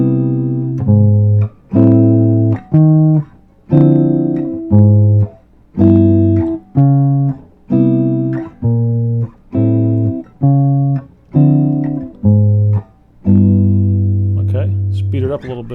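A guitar plays a slow walking bass line, with full chords struck on the root notes, in evenly spaced plucked notes and chord hits, clear and close with no talking.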